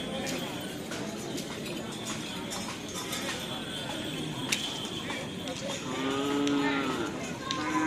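Cattle lowing at a Madura bull race (karapan sapi) in Pamekasan, several deep moos rising out of a busy crowd murmur, with a louder, longer moo near the end and people talking throughout.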